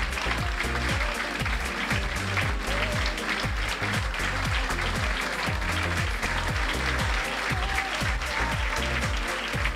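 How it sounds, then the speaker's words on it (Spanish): An audience at a ceremony marking the 60th anniversary of the UNNE Faculty of Engineering applauds engineer Mario Natalini, loud sustained clapping over a steady pulsing rhythmic beat that continues without pause. "Pedimos allí los aplausos que se elevan para él, para el ingeniero Mario Natalini"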